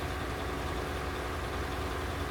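A John Deere tractor, the largest in Farming Simulator, idles in the game with a steady, quiet, low engine drone and no other sounds or voices.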